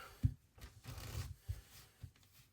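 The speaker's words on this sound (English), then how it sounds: "this should be what a riffle shuffle should look like" A deck of playing cards is riffle shuffled by hand, giving a quiet run of soft rippling and flicking bursts with brief pauses and no voice.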